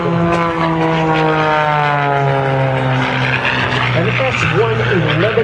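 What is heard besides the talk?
S-111B biplane flying aerobatics at airshow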